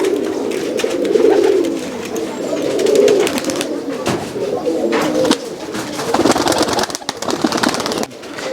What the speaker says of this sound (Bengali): এটা হচ্ছে রাজশাহী হচ্ছে পিলং কবুতর, রাজশাহী পিলং কবুতর